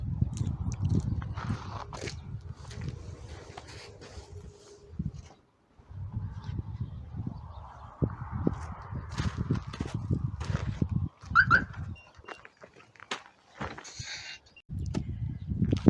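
Chickens cluck and peck outdoors in a yard, with soft scratching, bird calls and occasional light knocks in the background.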